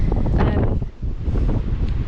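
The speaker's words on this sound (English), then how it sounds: "God, it's so windy." Strong winter wind roars and buffets the microphone in loud, steady gusts that dip briefly before surging again, with nothing else audible.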